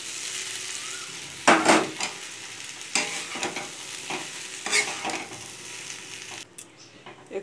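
Washed, squeezed flattened rice (chira) stirred and fried in a pan, a few loud scraping and clanking spatula strokes over a continuous sizzle, close by, with no one speaking.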